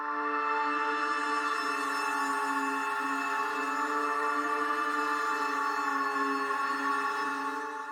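A retro sci-fi texture from the Spitfire BBC Radiophonic Workshop library: a steady, loud electronic drone of stacked humming tones that holds evenly for the whole stretch, with no voices.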